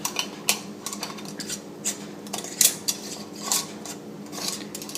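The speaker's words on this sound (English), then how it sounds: "And now let's put our lids on and close it off." Lids go onto glass jars of pickled beets and are closed, producing a series of sharp metallic clinks and clatters at an irregular pace, close and fairly loud, with no speech.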